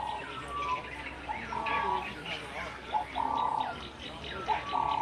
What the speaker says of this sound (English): the birds are really loud this morning